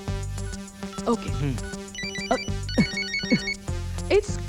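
A telephone rings in a Hindi film scene, its repeating electronic ringtone pattern sounding under music and voices, moderately loud and close.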